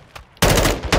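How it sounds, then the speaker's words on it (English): Gunfire in Call of Duty DMZ: after a quiet lead-in, a loud close burst of rapid automatic shots cuts in and rattles on, pausing briefly before resuming. "I'm taking fire!"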